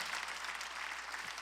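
A congregation at a Sunday church worship service claps together in a steady, even wash of applause that is faint and distant for the whole short stretch.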